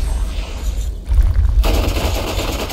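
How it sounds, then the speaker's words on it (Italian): Rapid gunfire bursts from the video game Borderlands, dense automatic shots with a heavy boom partway through, loud and continuous over the whole short stretch. "Ah, gli sparo al punto dietro."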